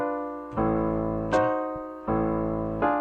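Opening of a Dance of the Sugar Plum Fairy backing track: evenly spaced plucked or struck chords over a low sustained bass, four soft attacks that decay gently, clear and alone with no talk.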